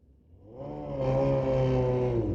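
A 2025 Kawasaki dirt bike and a car launch at a drag strip, engines revving up loudly and rising into a sustained, steady high-pitched roar.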